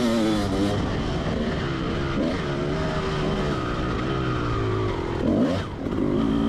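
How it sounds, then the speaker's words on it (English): A 2004 Kawasaki KX250 two-stroke motocross bike ridden at a Washougal MX Park race, its engine buzzing loud and close with constant revving and pitch swings as it shifts and accelerates. "I'm on my 2004 KX250."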